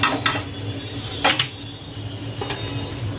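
Bread pakoras being flipped in a frying pan, with a few sharp clinks of a spatula against the pan over a low, steady sizzle of oil, all close by.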